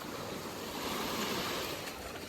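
Water washes gently against a lake shore in a steady, soft hiss of small waves, with light wind noise over the microphone and no voices.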